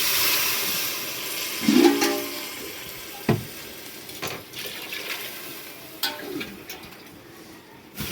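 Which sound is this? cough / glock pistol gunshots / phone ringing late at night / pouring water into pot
pouring water into pot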